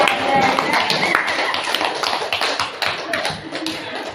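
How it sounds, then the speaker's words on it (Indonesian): A group of students claps together in a vocational high school classroom, a dense, steady patter of many hands with voices mixed in. "Mari kita tepuk tangan."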